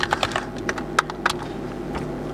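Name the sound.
typing on computer keyboard into command prompt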